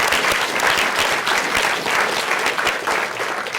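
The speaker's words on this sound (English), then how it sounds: "So let's give them another round of applause." Conference audience at a summit plenary session claps in sustained, even applause, a dense crackle of many hands filling the room with no talk over it.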